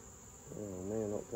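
Honeybees buzz at a hive while bringing in pollen and nectar, a soft, close drone with a rising and falling wingbeat hum lasting just over a second.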